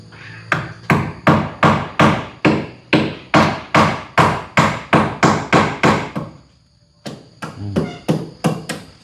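Nails are hammered into wood in a fast, even series of about twenty sharp, loud strikes, broken by a brief pause near the seventh second before the blows resume.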